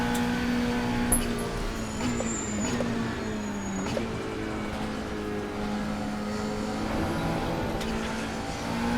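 Race car engine running on the Lake Blacina track in a racing game, a sustained droning whine that steadies and shifts pitch, with occasional clicks and brief higher tones over nine seconds.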